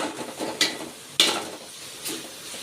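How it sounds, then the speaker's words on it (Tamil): Three finely chopped onions sauté in oil in a pan until golden, a faint, soft sizzle broken by a few sharp clinks and scrapes of a spoon stirring against the pan. "போட்டு எல்லாம் பொன்னிறமாக வதக்கணும்"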